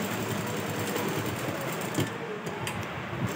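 Sewing machine stitching a simple blouse along both side seams, a steady continuous mechanical whir running throughout at moderate level, with a couple of brief knocks, no talking.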